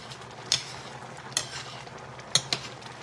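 Bottle gourd cooking in a pot, a quiet background bubble punctuated by four sharp metallic clinks of a utensil against the pot, spaced irregularly and close.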